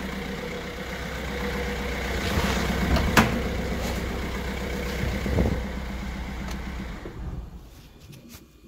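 A Citroen 1.6 HDi diesel engine idling with one dead cylinder, its rough, uneven mechanical chug running steadily and close with no talk, then fading toward the end.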